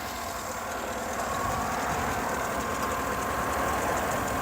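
A 2014 Cadillac Escalade's 6.2-liter V8 Vortec engine idles smoothly and evenly, a steady hum with faint mechanical ticking heard close up in the open engine bay, no voices.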